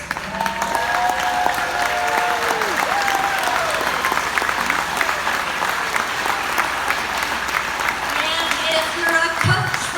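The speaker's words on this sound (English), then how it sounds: "please stand up so we can give you a round of applause" An audience at a Girls on the Run of Utah gala claps for board members, a sustained loud burst of applause in a large room, with voices speaking over the clapping throughout.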